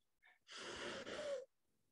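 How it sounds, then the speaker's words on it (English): A single slow, deep breath is drawn in close to the microphone as a long, steady airy rush lasting about a second, preceded by a faint short sniff and followed by quiet. "take a deep breath at the count of 4"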